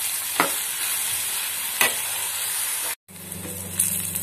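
Thinly sliced bitter gourd frying in a pan, a bright continuous sizzle with a couple of stirring scrapes and a brief cut midway, close and fairly loud without speech.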